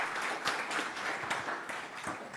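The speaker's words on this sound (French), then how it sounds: "Et vous pouvez les applaudir." A conference audience at a DevOps talk gives brief, fairly quiet applause, with scattered individual claps audible in an even patter throughout.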